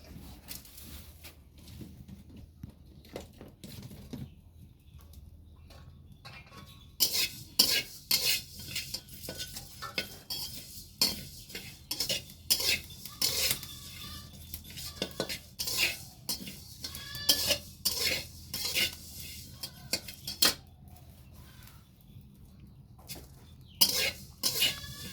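Coriander seeds roast in a pan with cumin and fennel while a spoon scrapes and clinks against the metal in irregular bursts, with quieter stretches between stirs and no voices.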